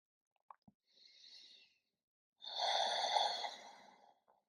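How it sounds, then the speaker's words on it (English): A person breathing during a gentle yoga stretch. A short soft exhale comes first, then a longer, louder breath, with faint clicks around them in a quiet room. "Breathing here."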